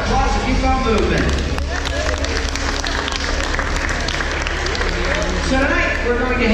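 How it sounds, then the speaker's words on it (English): A large audience claps loudly and continuously at a live hypnosis stage show, a dense roar of applause with crowd noise and voices mixed in, sustained throughout. "Round of applause if you've got movement"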